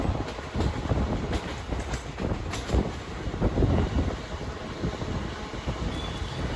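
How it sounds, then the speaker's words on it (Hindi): Begumpura Express 12237 travelling fast between Varanasi and Ambala Cantt, a steady rumble with rhythmic wheel clatter and wind buffeting, close and continuous, no voices. "ट्रेन ने अचानक से स्पीड पकड़ ली है और काफ़ी तेज़ी से चल रही है"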